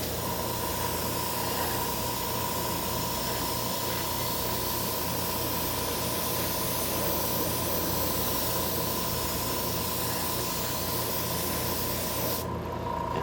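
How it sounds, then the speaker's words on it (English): Continuous airy hiss of an airbrush test-spraying gold paint, steady and close, with a faint tonal whine underneath, cutting off abruptly at the end. "I always like to test spray just a little bit whenever I use my airbrush"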